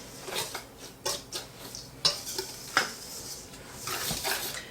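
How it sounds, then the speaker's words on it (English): Dry ingredients including cinnamon and salt are whisked together in a bowl, giving soft, irregular scraping and clinking taps of the whisk against the bowl, fairly quiet and close. "we'll whisk all of that together before adding our wet ingredients"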